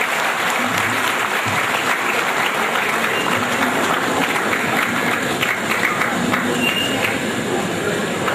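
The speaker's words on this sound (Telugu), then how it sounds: "కొట్టండి చప్పటి గట్టిగా" An audience at an anniversary event claps loudly and steadily, a dense, continuous wash of applause that holds at full strength throughout, with voices faintly mixed in.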